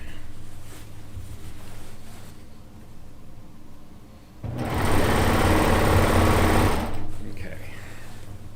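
A sewing machine stitches a quilt seam in one loud, close burst of a couple of seconds. Quieter handling noise and a low hum come before and after it.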